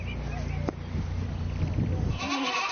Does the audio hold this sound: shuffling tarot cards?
no